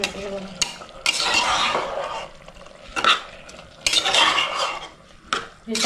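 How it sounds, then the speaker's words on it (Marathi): A spoon scrapes and stirs through masala potato rice in a pressure cooker, in uneven bursts of clattering metal against the pot with short pauses between strokes, close and fairly loud. "ढवळून घेते बघा."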